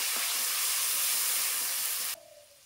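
Ground ginger and cashew paste sizzling in hot oil in a pan, a loud steady hiss that cuts off abruptly and drops to a quieter simmer.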